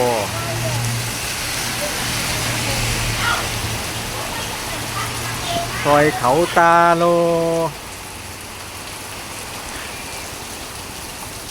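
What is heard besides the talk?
heavy rain and wind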